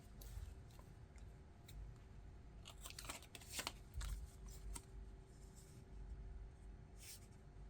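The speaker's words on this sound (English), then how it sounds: "Scissors." Quiet snipping and rustling of scissors cutting paper, with a few brief crisp cuts clustered in the middle over a low background hum.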